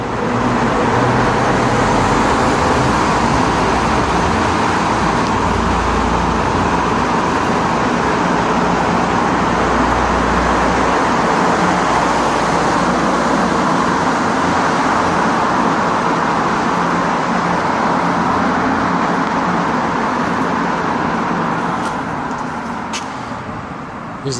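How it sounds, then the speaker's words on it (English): Road traffic roars steadily through the Georges-Vanier tunnel, a loud, continuous reverberant wash of cars, buses and trucks passing close by, with a faint hiss of air brakes near the end and no talk. "Noisy when the traffic comes through here."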